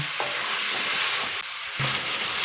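Chicken with chili paste, chopped onion and garlic sizzling steadily in a hot pan, with a couple of sharp scraping stirs of a spatula through the frying.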